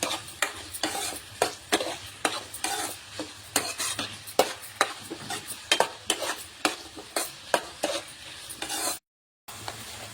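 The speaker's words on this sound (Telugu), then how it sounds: "ఉల్లిపాయలు మంచి బ్రౌనిష్ కలర్ వచ్చే వరకు ఫ్రై చేయాలి" Onions frying in a pan for gongura chicken, stirred with a utensil in a steady rhythm of scraping strokes over a continuous sizzle, close and clear, with a brief silent gap near the end.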